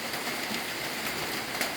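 Steady rain falls on a pig farm, a dense, even hiss with a faint patter. Moderately quiet, continuous, and without voices.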